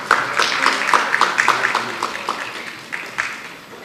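Audience applause at a legal awards conclave, a steady patter of many hands in a hall with some sharper individual claps, gradually tapering off.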